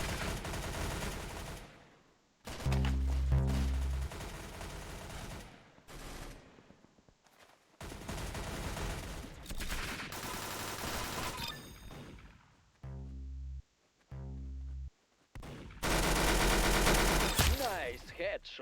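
Gunfire in an online shooter video game: bursts of loud automatic fire and heavy single shots come in clusters, separated by short quiet gaps, with some voices now and then.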